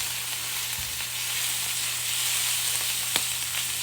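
Minced garlic and onions sizzling in a hot pan, a steady bright crackle with a few soft stirring knocks, close and alone without talk.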